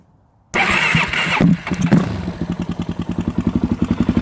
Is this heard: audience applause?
no